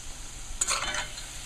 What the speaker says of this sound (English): But the syrup is boiling.